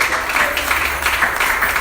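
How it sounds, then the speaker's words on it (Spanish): A church congregation bursts into sustained, dense applause, many hands clapping together in a steady wash of sound. "Denle un aplauso al Señor."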